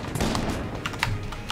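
Rapid, crackling bursts of gunfire from the video game Enter the Gungeon, a quick rattling volley of light shots over a steady game-audio bed, fairly quiet and lasting barely over a second.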